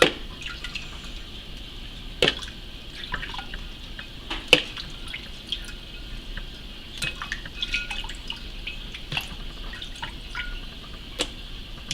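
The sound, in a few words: pouring water over blanched tomatoes in a pot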